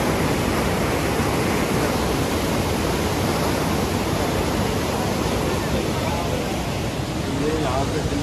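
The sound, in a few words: rushing water at Dadupur Dam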